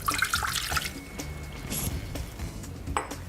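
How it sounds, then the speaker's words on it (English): Water is poured into a ThermoChef bowl for pizza dough, a close, steady trickle and splash with small drips and bumps throughout. "we're going to place the water into our TC bowl"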